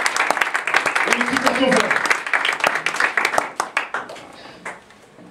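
Church congregation clapping and applauding, a dense burst of hand claps that gradually thins into scattered claps, with people talking and calling out throughout.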